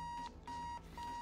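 An alarm in a bomb defusal video game beeps in three repeated bursts of a steady electronic tone, each separated by brief gaps, heard clearly at moderate volume with no talking over it.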